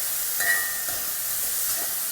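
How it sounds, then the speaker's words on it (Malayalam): Onions sauté in a pan for a Kerala-style chicken stew, giving a steady soft sizzling hiss with a few faint stirring clicks, close and moderate in level, with no talking. "ഇതിനൊന്ന് നന്നായിട്ട് വഴറ്റിയെടുക്കാം."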